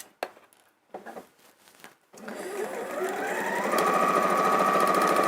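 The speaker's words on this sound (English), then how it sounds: "you're going to sew along one side again, straight stitch" A sewing machine runs a continuous straight stitch along a seam of Tula fabric for an appliqué cushion, starting after a few soft handling clicks and holding a steady, fairly loud mechanical whir to the end.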